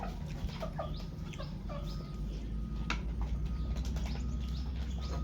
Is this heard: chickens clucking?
yes